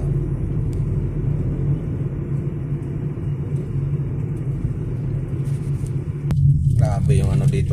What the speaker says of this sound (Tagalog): Biglang nagkaroon ng yung maingay sa ilalim, yung mga espalto, para nagkaroon na ng buwangin.